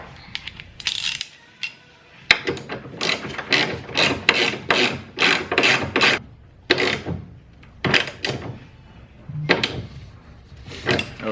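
A 17 mm ratchet wrench tightens an interior bolt in a Mazda NA Miata, producing loud, close bursts of rapid clicking pawl ratcheting separated by short pauses, repeated over and over.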